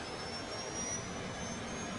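An aircraft jet engine speeds up during a runway incident, producing a steady, fairly quiet broadband roar with a thin whine slowly rising in pitch, heard alone without talk.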